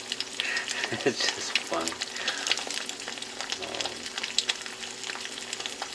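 An egg frying in a hot pan gives a steady crackling sizzle with small spits and pops throughout, close up, while someone talks briefly over it.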